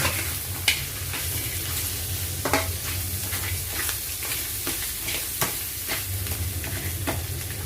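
Cleaned almasal sautéed in a pan with patola nearby gives off a steady loud sizzle and fry, with occasional sharp clacks as it is stirred.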